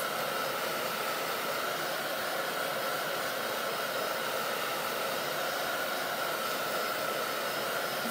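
A heat gun or hair dryer blows without a break to dry chalk paint on decor moulds fixed to a small metal bucket. It makes a loud, even whooshing hum close by for the whole stretch, with no talk.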